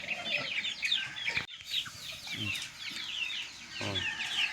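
Native chickens cluck and chatter in a backyard, several birds calling close by in quick, overlapping bursts with a few lower grunts mixed in.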